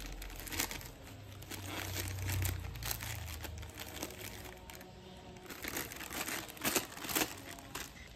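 Hibiscus flowers being pushed into a plastic bag make a steady rustling crinkle of plastic, with bursts of crackle near and fairly loud throughout, and no talking.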